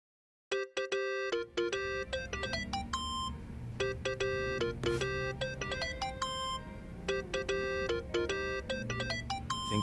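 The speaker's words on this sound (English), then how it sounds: "Think that's your phone, man." Mobile phone ringtone in the video game Yakuza: Like a Dragon, a bright electronic melody of quick repeating beeping tones that starts abruptly and rings on steadily, loud and alone with a faint low background underneath.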